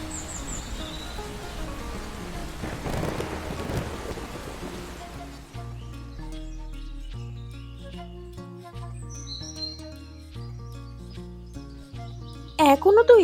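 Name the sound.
rain and thunder in a cartoon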